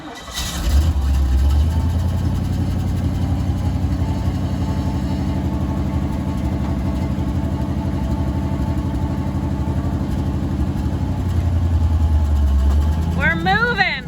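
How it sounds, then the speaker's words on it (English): A 1969 Chevy C20 truck, on its first drive in decades, rolls around the block with its engine droning loud and close throughout. The engine gives a brief rise near the end. "let's take it for a drive around the block"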